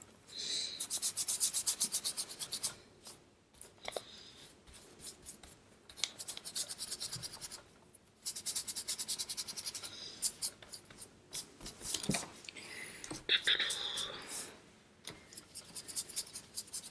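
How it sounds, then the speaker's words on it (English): Acrylic paint rubbed onto a page, several bursts of steady dry scrubbing strokes with brief pauses between them, close and fairly quiet, no talking. "I'm rubbing the acrylic pretty much onto the page"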